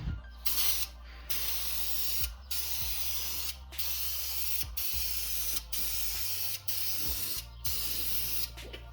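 A spray paint can hisses in repeated bursts onto a truck bumper, about eight short sprays separated by brief gaps, close and fairly loud over a low steady fan hum.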